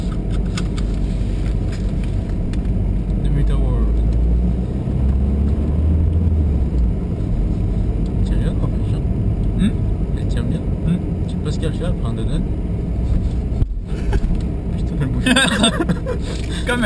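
A car engine rumbles low and steady while driving, heard from a GoPro ride, as people talk loudly over it for most of the stretch.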